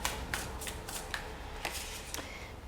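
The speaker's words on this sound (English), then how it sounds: "let's go ahead and take our next deck of cards. We're going to shuffle these ones" Deck of cards being shuffled close by, a series of crisp riffling flutters and sharp snaps at irregular intervals, moderately quiet, no talking.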